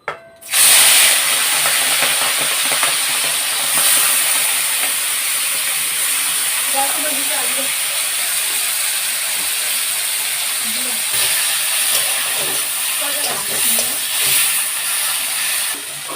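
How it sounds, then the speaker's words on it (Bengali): Shrimp coated in turmeric frying in a pan, giving a loud, continuous hiss and sizzle that starts abruptly and holds steady, with faint bubbling crackles underneath. "মাছগুলোকে এখন ভেজে নামিয়ে নেওয়া হচ্ছে।"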